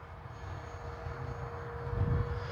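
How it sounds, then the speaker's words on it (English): A KAVAN Bristell B-23 RC scale model plane flies by, its electric motor a steady drone with a faint high whine, swelling slightly louder near the end, with no talking. "Sweet flying plane."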